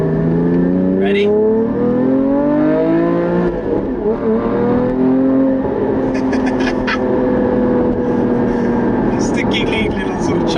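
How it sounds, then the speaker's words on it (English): A Porsche 981 Cayman GT4 with an iPE exhaust revs hard, its tone rising then dropping at a gear change into a lower drone, with crackles and pops scattered on top, loud and close. "when you change gear, it's just like bubbling, crackling, and just going crazy"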